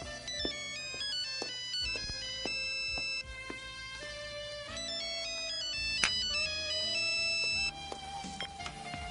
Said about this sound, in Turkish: Serap, şu telefona baksana.